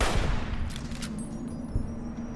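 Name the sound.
rifle gunshots in video game Fallout New Vegas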